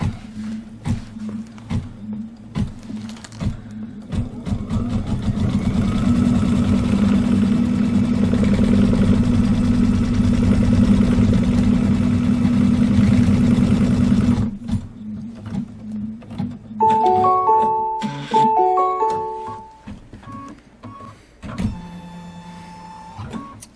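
An embroidery machine stitching a Kimberbell candy corn quilt block runs loud and close, with a rapid mechanical rattle and whir that stops partway through, followed by scattered clicks and electronic beeps.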